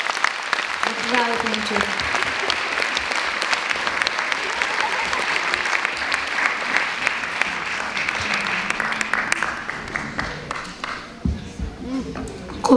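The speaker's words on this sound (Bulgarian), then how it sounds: "Нека да ги посрещнем с силни аплодисменти" Applause welcoming two young carol singers at a Christmas celebration, a sustained crowd clapping that carries on at length, thinning toward the end while a voice speaks briefly.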